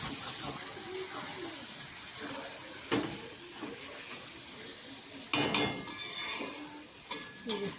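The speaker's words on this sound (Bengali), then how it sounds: "লোটে মাছটা মশলার সঙ্গে নাড়িয়ে নিচ্ছি একটু" Bombay duck fish is stirred with spices in a pan over a quiet, hissing background, with a few faint scrapes early on and then a burst of louder scraping and clattering near the end.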